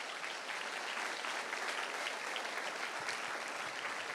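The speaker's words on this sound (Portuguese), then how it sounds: "Se possível for, dá ao Senhor uma linda salva de palmas." A church congregation gives a sustained round of applause in worship, a fairly soft, even wash of many hands clapping together that continues steadily without any talking.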